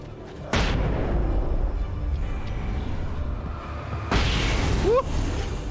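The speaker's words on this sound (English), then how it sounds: "Flashbang out." Flashbang going off in the Alan Wake video game, a sudden loud boom followed by a sustained ringing roar, then a second blast-like surge near the end, with a brief rising tone.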